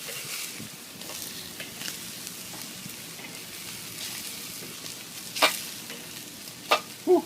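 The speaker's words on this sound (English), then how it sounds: "Time to put the shrimp on." Shrimp sizzling on a hot charcoal grill, a soft steady crackle and hiss with a few sharper clicks and pops near the end, fairly quiet and close.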